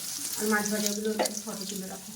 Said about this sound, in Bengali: আর এখন বসে গেছে আলু ফ্রাই করার জন্য